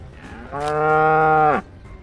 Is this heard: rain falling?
no